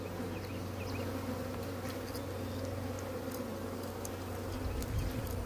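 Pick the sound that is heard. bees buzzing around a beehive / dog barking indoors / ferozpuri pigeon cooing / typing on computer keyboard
bees buzzing around a beehive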